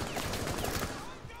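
Gunfire from a gun in Rainbow Six Siege, a quick close string of shots in brisk succession that thins out toward the end.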